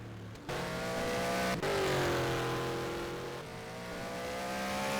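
Race car engine in a racing video game at Bahrain, accelerating hard out of turn 4, a loud, steady rising engine note with gear-shift dips and no talk.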